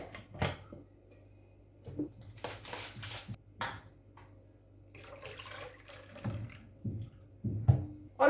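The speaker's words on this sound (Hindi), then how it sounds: "जार को धो के हम उसका पानी भी इसमें डाल देंगे" Rinse water from a rinsed grinder jar poured into a pot of sambar: intermittent splashing and sloshing pours with short knocks and clatters between them, close and moderately loud, no talking.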